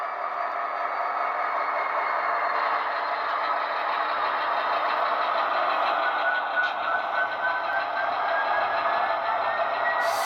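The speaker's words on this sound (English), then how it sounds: "Kick the sound on so we can listen to some RPMs going on here." An Athearn Union Pacific SD70ACe model diesel locomotive's sound decoder plays a steady engine drone with rising RPM tones, continuous and fairly loud, with no talk.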